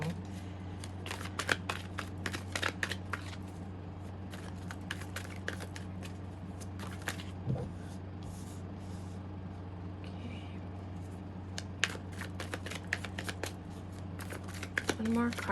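Tarot cards are shuffled during a reading, giving repeated rapid riffling and snapping bursts over a steady low hum, close and fairly loud throughout, with brief quiet gaps between bursts.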